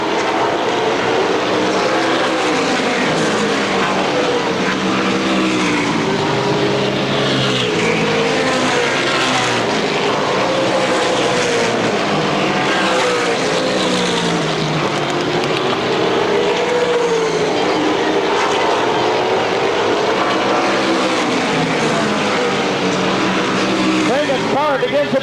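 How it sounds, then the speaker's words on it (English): Race cars roar around a dirt speedway track in a 1992 Motordrome Speedway show, with engines revving, rising and falling continuously and loudly as they slide through the turns, under an announcer's commentary. "Ice gets the car sideways in an effort to try to close in on Cragen"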